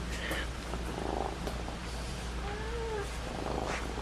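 A pet cat purring steadily and close by in a quiet room, with a few faint meows breaking over the low continuous rumble.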